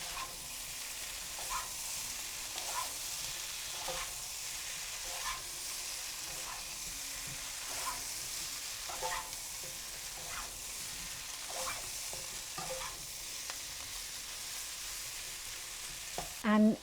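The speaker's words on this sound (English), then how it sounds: "Now I'm gonna cook this on high heat for 5 minutes." Potatoes for a mustard potato sabzi fry over high heat in a pan, a constant soft sizzle with periodic stirring scrapes throughout and a brief clank at the end.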